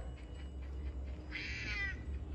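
A kitten meows once, a short wavering cry in the latter half, set against a steady low rumble of background noise in a home.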